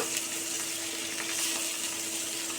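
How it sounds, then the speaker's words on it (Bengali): Steady, close sizzling of tangra fish frying in hot oil, a dense crackling hiss with no voices. "এবার মাছটা আমি এপিটোপিট করে ভেজে নেব"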